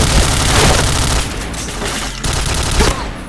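Loud burst of automatic gunfire and a heavy blast from a grenade explosion in the shooter game Point Blank, dense rapid shots that ease briefly then return.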